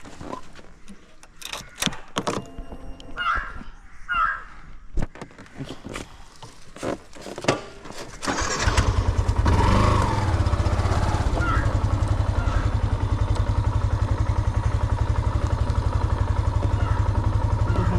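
A motorbike engine fires up about halfway through after some rustling and handling noises, then holds a loud, steady, close-up idle drone that continues to the end.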